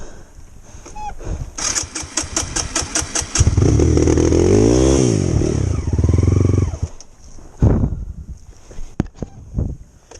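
A dirt bike motorcycle climbs a loose gravel trail, its engine revving and straining loudly through the middle with clattering gravel, then cutting back to quieter idling and bursts of revs near the end.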